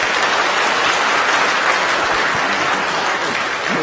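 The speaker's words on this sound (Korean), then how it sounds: "졸업생 인사할 때 여러분들 축하의 박수 부탁드립니다" A church congregation at a Sunday service applauds graduating middle and high school students: dense, steady clapping from many hands, loud and continuous throughout with no voices.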